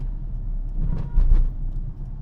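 A car's engine rumbles low and steady from inside the cabin on a road in Madipakkam, Chennai, while the driver brakes, presses the clutch fully and shifts from third down to second gear, with a brief swell partway through.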